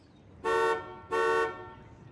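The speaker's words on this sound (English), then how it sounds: "let's blow the horn" Horn of a Buick LeSabre car, two short loud honks about half a second apart, close and alone.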